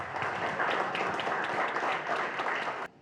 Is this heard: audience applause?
yes